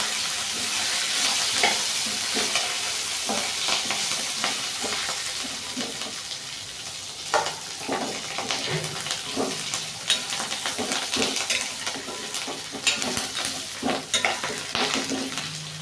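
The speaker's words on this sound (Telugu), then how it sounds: "ఇప్పుడు మొత్తం మిక్స్ అయ్యేలాగా కలుపుకుందాం" Curry leaves stirred in a frying pan while making coconut chutney, a continuous close sizzle broken by repeated scraping and clattering stirs, growing busier toward the end, with no talk.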